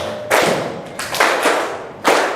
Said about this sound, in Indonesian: kita tepuk bersama-sama dulu